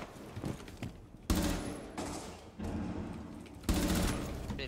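Gunfire in a shooter video game played on a Nintendo Switch, several bursts of rapid shots with sharp onsets amid a low game background, moderately loud and without talk.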